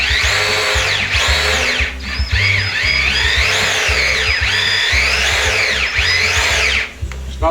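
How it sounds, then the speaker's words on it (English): A medium-priced DeWalt cordless drill, not fully charged, cranks a table up and down with a loud, close motor whine that rises and falls in pitch under varying load, running almost continuously. "DeWalt drill there, nothing special. Just a medium priced drill."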